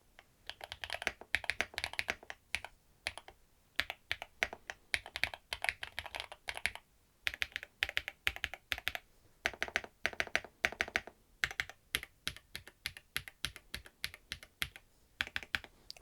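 Someone types close up on an assembled Chilkey ND75 mechanical keyboard, producing quick bursts of crisp, clacky keystrokes with brief pauses between runs and no talking.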